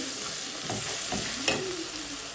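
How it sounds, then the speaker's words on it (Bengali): Onions fry in a pan on a stove, giving a soft, continuous sizzle with a few stirring scrapes and clinks. "এই তো চুলায় আমি এখন পেঁয়াজগুলো ভালো করে সুন্দর করে ভেজে নিচ্ছি"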